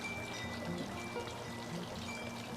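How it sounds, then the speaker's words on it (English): Cheesecake batter poured into a graham cracker crust, a soft, steady trickling pour with light wet spattering, close and fairly quiet, with no talk. "I'm now going to pour my cheesecake batter into my graham cracker crust"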